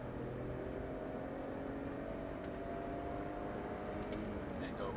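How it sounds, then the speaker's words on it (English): BMW X5 SUV pulling hard in third gear after a downshift, a steady broad engine and road roar at highway speed with constant wind and tyre noise, close and continuous throughout. "downshift to third, hammer the throttle, and away we go"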